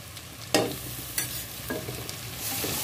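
Garlic, ginger and ground chili paste sizzle steadily in hot oil, with several distinct scraping stirs of a spoon breaking through the continuous frying hiss.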